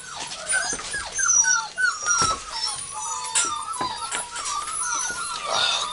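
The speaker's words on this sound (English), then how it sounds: "Hi, puppy." Six-week-old puppies whimper and yip in a steady chorus of high, thin cries, close and fairly loud, with overlapping squeals rising and falling throughout.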